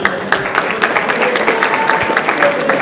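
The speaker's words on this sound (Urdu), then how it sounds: "ایک دفعہ زوردار تالیاں" An audience at a welfare society's annual dinner at Arid Agriculture University breaks into sustained applause, a dense wash of clapping with sharper individual claps poking through and some voices mixed in.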